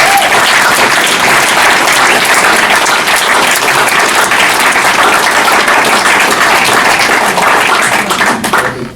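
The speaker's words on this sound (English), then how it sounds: "join me in giving a huge round of applause" Lunch audience at a Rotary club gathering giving a loud, sustained round of applause, dense close clapping throughout that starts to die away at the very end.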